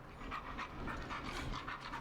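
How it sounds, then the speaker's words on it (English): Max, a rescue dog in the game Killer Frequency, pants in a fast, steady rhythm of breaths close to the listener. The panting carries on through the whole moment with no talking. "Max is my emotional support dog."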